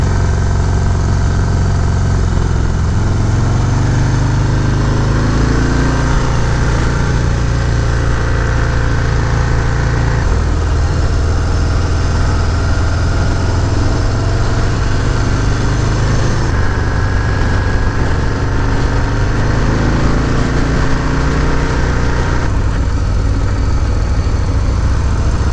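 A 2019 Harley-Davidson FXDR 114 cruiser motorcycle engine drones loudly and steadily while riding, a continuous close rumble with slight shifts in pitch and no talking.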